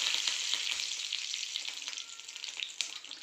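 Mustard seeds, cumin and curry leaves temper in hot oil in a home kitchen, a steady, close crackling sizzle with scattered pops that gradually settles slightly quieter, with no voices.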